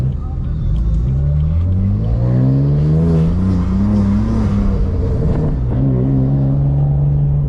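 A manual BMW F80 M3 engine revs while drifting, rising and falling in a loud, close, sustained roar, with a voice briefly over it.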